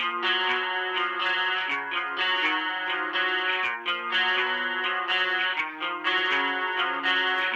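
An electric guitar played through a Boss GE-7 EQ pedal into a distortion pedal, with a harsh, fuzzy distorted tone, plays a steady riff of repeated chords, loud and alone.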